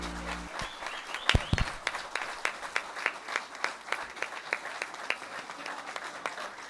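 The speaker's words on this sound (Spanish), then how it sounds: "Fuerte el aplauso." An audience in an auditorium bursts into applause, steady clapping from many hands sustained throughout in a room.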